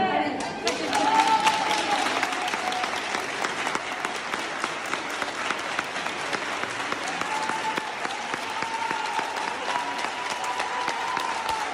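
A group applauding itself, sustained steady clapping from many hands for several seconds with some voices rising over it.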